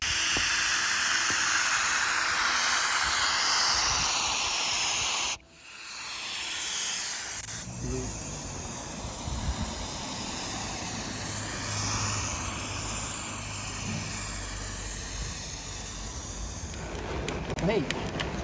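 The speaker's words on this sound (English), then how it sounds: "silicone spray for the plastics and the rubbers around the outside" A can of silicone spray hisses in long, loud bursts as it coats the outer plastics and rubber trim of a Vauxhall Cavalier. One spray runs for several seconds, breaks off abruptly, then resumes steadily, with a voice speaking over it.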